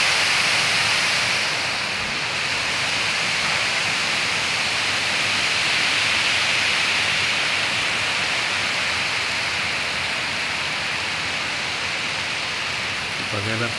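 White water pours from the half-open gates of the Aruna dam in a loud, unbroken roar that keeps a steady level the whole time.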